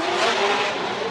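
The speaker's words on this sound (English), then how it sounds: "taking that 4-cylinder turbo Scion TC heavy into that final clip" A 4-cylinder turbo Scion tC drift car at Long Beach roars at sustained high revs through a final clip, loud and close with a steady raspy engine note and no voices.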